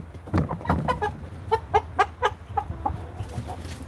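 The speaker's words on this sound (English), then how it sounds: "He's right with the other rooster." A rooster in a chicken coop gives a run of rhythmic clucks, close and fairly loud, one after another with no talking.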